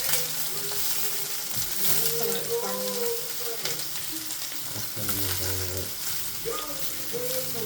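Garlic mushrooms sizzling steadily in a hot pan, a continuous crackling hiss with occasional scraping and stirring clinks, with people speaking quietly over it.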